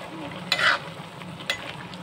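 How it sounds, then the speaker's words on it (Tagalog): Greens sautéed with salt and garlic sizzle steadily in a pan up close, with a couple of brief stirring scrapes over the constant frying hiss and no talk. "Litos na ginisa. Asin lang naman at bawang lauk niyan guys."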